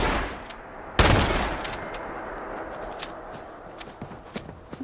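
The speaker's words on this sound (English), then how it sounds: "The gunshot just echoes." A loud gunshot in the video game Fallout 76 cracks out and rings into a long, fading echo, followed by faint scattered footstep-like clicks and rustles.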